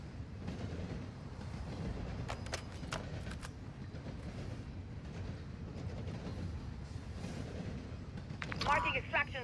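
A train in the Call of Duty Modern Warfare II DMZ game, a steady rumbling rail roll with faint clicks running throughout, loud and constant, with a brief chirpy burst near the end.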